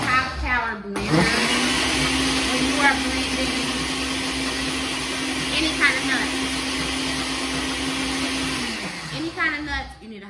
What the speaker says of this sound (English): you need a pretty good high power blender.